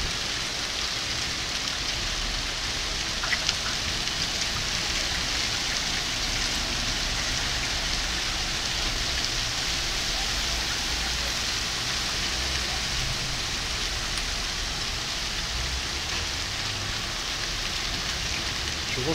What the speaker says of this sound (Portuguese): chuva de granizo em São Paulo